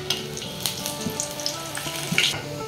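Slices of pointed gourd (potol) sizzle in hot oil, with a steady crackling fry and occasional sharper pops and stirring clicks.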